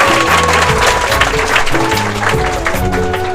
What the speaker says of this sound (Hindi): तालियां एक बार हो जाए, जोरदार तालियां